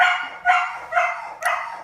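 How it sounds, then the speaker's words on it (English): A dog barks four times in a steady series of sharp, moderately loud yips at home, each bark evenly spaced and clear with no talking over them. "my dog was barking because my dad came home"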